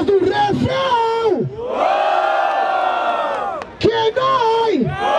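A crowd roars and cheers at a Brazilian freestyle rap battle final in Barueri, São Paulo, with loud sustained yelling and whoops swelling in the middle, while an MC shouts over the noise at the start and end.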